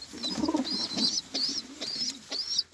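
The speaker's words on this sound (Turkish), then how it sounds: "Bu erkek Ankara kuşu." Several soft, low cooing calls from Ankara pigeons, including a male, repeating in a loose rhythm about every half second, close by with faint higher chirps layered over them.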